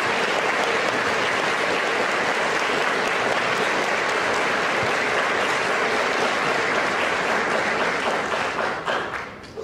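Audience applause at a JROTC awards ceremony, dense and steady clapping from a large crowd that sustains at full strength and begins to taper at the very end.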